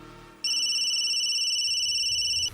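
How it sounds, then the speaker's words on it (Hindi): An electronic phone ringtone starts abruptly and holds a steady, high warbling tone for about two seconds, loud and close, with no voices. "ले, लगता है उसी का फोन आ गया।"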